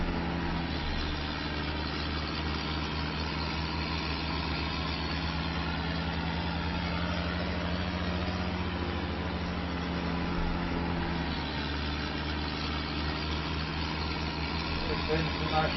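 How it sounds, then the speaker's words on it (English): An International 845 tractor engine idling in Farming Simulator 25, a steady, loud, low diesel drone that runs unbroken throughout with a constant rhythmic throb. "This International 845 is the only tractor we've got on the farm at the moment."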